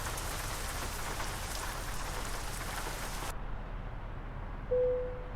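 Steady rain patters on a surface in Euro Truck Simulator 2, a dense even hiss that suddenly loses its bright top, followed by a brief tonal beep near the end.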